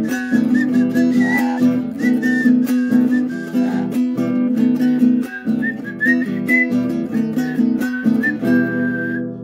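A singing parrot whistles a long melodic tune of rising and falling notes, loud and close, in quick phrases with short gaps.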